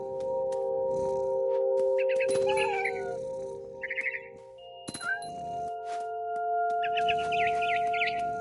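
Bird calls from the mama bird in the video game What Remains of Edith Finch, a series of short chirping and warbling phrases over a steady ambient drone, with a few sharp clicks between calls.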